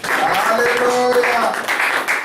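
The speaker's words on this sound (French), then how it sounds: "Acclamation pour les enfants." A church congregation claps for the children in a short, moderately loud burst of applause, with voices and a few sung or called notes running through the clapping.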